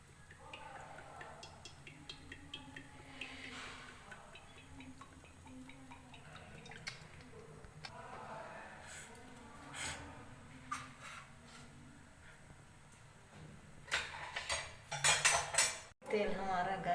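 A metal wok set down on a gas stove and cooking oil poured in, with scattered clinks and scrapes of metal, a few louder clattering knocks toward the end.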